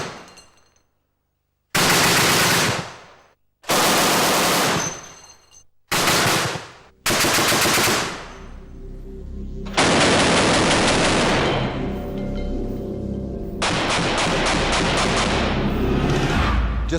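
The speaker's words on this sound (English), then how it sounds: "shoehorned into the Messerschmitt's tiny wings were 2 of these, the terrifying 20mm cannon" A Messerschmitt Bf 109's 20mm cannon fires at an aluminium target in loud, close bursts, several separate volleys of rapid heavy shots followed by longer sustained strings of fire, with the booms echoing between them.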